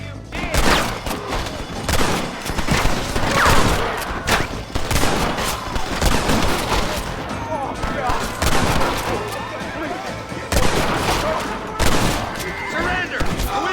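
Gunfire in the Western video game Red Dead Redemption, rapid repeated shots and volleys crackling throughout at steady loudness, with shouting voices mixed in.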